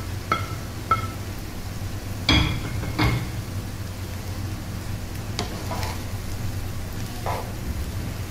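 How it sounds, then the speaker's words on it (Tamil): Rice cooked with carrot and beans is stirred gently in a pan: a handful of scattered scrapes and soft knocks over a low, steady background sizzle. "இந்த ரைஸ் உடையாமல் லைட்டாக கிளறி விட்டுக்கலாம்"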